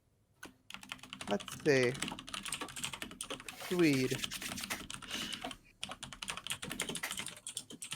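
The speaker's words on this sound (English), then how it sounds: "No, I'm typing" Soft, rapid keystrokes on a computer keyboard clatter steadily through most of the stretch, close and fairly quiet, with people talking over them in a casual tabletop roleplaying game session.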